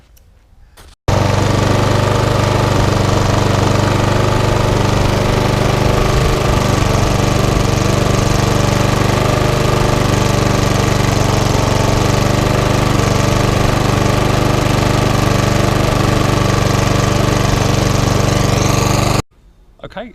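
A small petrol lawnmower engine, its dead man's handle tied off, starts up and runs loud and steady at close range for about eighteen seconds with a rough, continuous drone, then cuts out abruptly.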